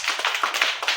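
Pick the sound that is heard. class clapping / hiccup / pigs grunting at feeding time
class clapping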